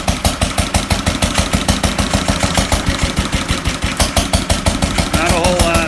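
A Fairbanks Morse model Z dishpan antique stationary engine idling down, a loud, close, steady rapid chugging with an even beat that slows slightly, alone without talk.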